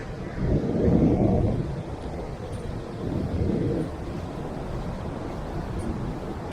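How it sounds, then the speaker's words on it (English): Sea water surging and rushing through a channel among algae-covered rocks below Marsland Cliff at Welcombe, North Devon, a loud, close, continuous roar with two heavier swells. "Look at all that water going everywhere here."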